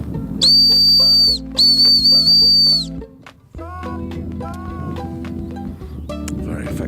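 Two long, piercing high-pitched blasts from an Acme 211.5 dog whistle, each about a second, followed by a softer tonal passage with some background sound.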